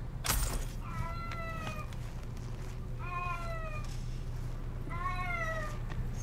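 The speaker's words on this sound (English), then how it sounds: "Sorry guys, that's my cat." A house cat meows three times in drawn-out, wavering calls spaced a couple of seconds apart, over a steady low hum, with a sharp click near the start.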